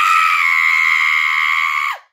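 A voice imitates a bobcat scream with one long, loud, steady high-pitched wail that holds for nearly two seconds, then drops and cuts off abruptly.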